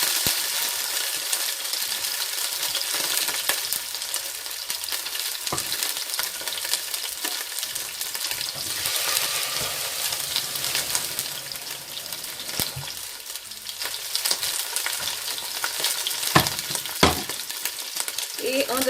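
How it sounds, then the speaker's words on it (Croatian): Diced potatoes fry in a pan with a constant bright sizzle, broken by occasional spoon scrapes and knocks against the pan as they are stirred; no one talks. "Krompir na kockice, malo samo pržimo tu"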